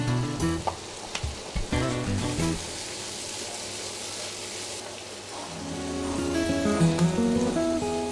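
Grated carrot and cabbage sizzling in a hot wok while being stir-fried for Thai chicken fried rice, a steady close hiss with occasional stirring clatter, louder toward the end.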